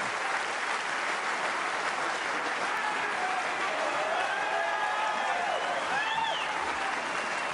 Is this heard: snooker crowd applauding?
yes